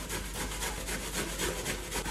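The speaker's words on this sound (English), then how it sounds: "So now I'm just going to shred the cabbage in here on the coarse side." Cabbage being shredded on the coarse side of a hand grater into a bowl, a steady continuous scraping rasp with repeated strokes, close and moderately loud, no talking.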